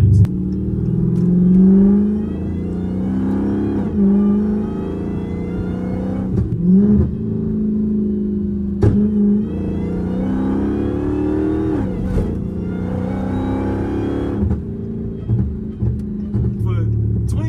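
A Hellcat car with a ported supercharger snout drives along, its engine droning steadily with occasional throttle rises, heard from inside under near-continuous conversation.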